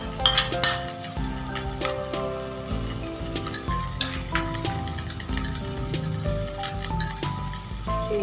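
Ginger paste with salt and sugar fries in a pan for egg and cheese pasta, giving a steady close sizzle throughout. Soft stirring scrapes and a tonal background sound with musical lines continue beneath the sizzle.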